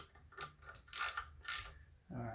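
A hand ratchet tightens intake manifold bolts on a Quad 4 engine, producing a few quick, quiet clicking strokes in short bursts, close and faint.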